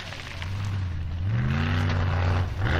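Turbo Troll formula offroad car's engine roars loud and close as it climbs a steep, low-grip hill, a sustained heavy drone with rising pitch partway through as the revs climb.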